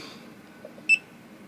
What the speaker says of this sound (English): I just heard it beep